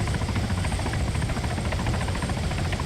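Military helicopter in the Arma 3 video game, a continuous loud rotor thrum and engine roar, steady and close throughout with no breaks.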